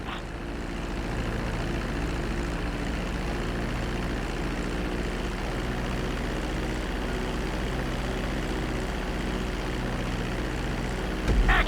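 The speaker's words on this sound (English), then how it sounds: "Start reducing the plane's altitude gradually so you're just above the runway as you approach." Plane engine in the GTA 5 video game during a runway landing approach, a steady droning hum that stays even throughout and rises slightly at the very end.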